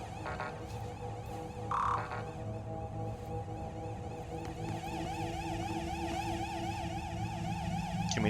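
A wailing siren in the video game Control, its pitch sweeping up and down in steady cycles alongside game music, loud and continuous throughout with no voices.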